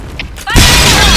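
A grenade explodes in a shooter video game with one loud, sudden, close blast. A long roaring burst follows it and drowns out the game sounds.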